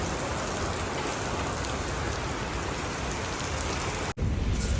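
Steady light rain falls outdoors in Himmatnagar, Gujarat, near a D-Mart store, a dense continuous hiss at a constant loud level with a brief dip near the end and no voices.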